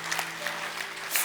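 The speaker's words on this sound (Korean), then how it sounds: "우리 아버지들을 위해서 박수로 한번 격려해 주시면 감사하겠습니다" A Korean church congregation claps in encouragement for the fathers, a brief, fairly quiet patter of applause from a room, with a faint steady hum underneath.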